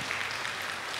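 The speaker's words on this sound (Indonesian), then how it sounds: "Ya, tepuk tangan." Audience at a public speaking session gives a short, fairly quiet burst of clapping, a brief even patter of many hands.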